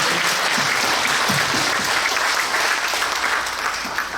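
Sustained applause from a church congregation at a denomination president's inauguration service in Seoul, dense and steady throughout with no speech over it.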